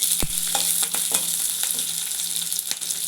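Onion and garlic fry in oil with cumin and peppercorns, a loud bright steady sizzle broken by several sharp stirring scrapes against the pan.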